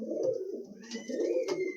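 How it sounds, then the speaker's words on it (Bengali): Rampuri pigeons coo nearby in soft, rolling throaty phrases, two or three repeated bursts with no talking. "এই দুটো কি পায়রা? রামপুরি পায়রা।"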